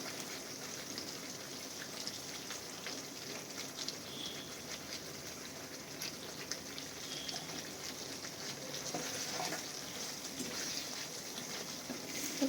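Kashmiri aloo dum with garam masala and a little ghee is mixed in a pan: a soft, continuous crackling patter with faint scraping, fairly quiet and with no talking.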